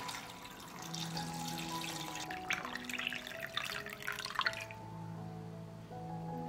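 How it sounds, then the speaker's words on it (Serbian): Warm water is poured into a pot holding glass jars set on a cloth, a soft, close trickle and splash with faint ringing tones from the jars, fading quieter toward the end. "U šerpu sipam toplu vodu do visine poklopca."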